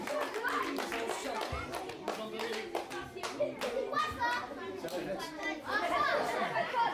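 Audience clapping at a live Occitan reggae trad concert in a club in Rodez, a dense sustained patter of many hands under crowd chatter and children's voices, swelling louder near the end.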